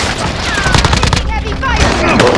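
Heavy gunfire in a Call of Duty match: a dense, continuous crackle of rapid shots and booms throughout, with voices talking over the battle noise.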